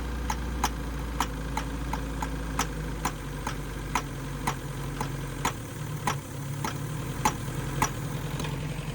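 An abandoned Mercury Capri turbo engine running after 23 years, idling roughly with a low steady drone and evenly spaced sharp ticks or knocks, close by and smoking, with no talk.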